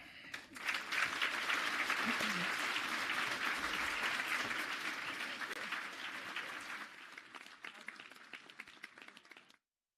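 An audience at a summit on fairness for newcomers applauds Premier Danielle Smith after her speech, a full round of clapping that swells quickly, holds, then thins to scattered claps before stopping.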